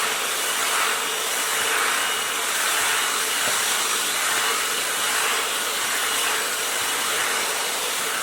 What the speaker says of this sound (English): it also may help if I actually turn the blow dryer down